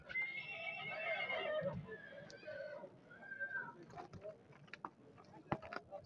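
A horse whinnies at a busy Nookat horse market, a drawn-out call near the start and a shorter one later, set among distant chatter, knocks and hoof clatter.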